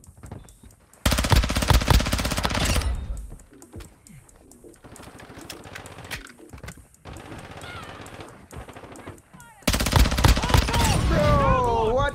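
Rapid automatic gunfire bursts in the Warzone Mobile shooter game, loud sustained volleys at the start and end with quieter shots and game effects between, while players talk over it.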